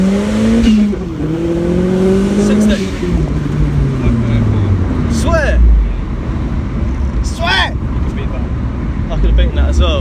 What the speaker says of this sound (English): It's your fairly standard turbo setup for an MX-5, running about 256 horsepower